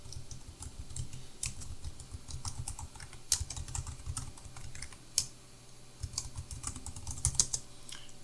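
Admin credentials are typed on a computer keyboard in quick, irregular bursts of close clicks and key taps with a few louder strokes, continuing alone without talk.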